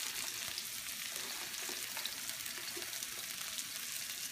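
Spring onions, coleslaw and carrots stir-frying in a hot pan for vegetable chow mein, giving a steady, dense sizzle that holds at an even level from start to finish, with no talking.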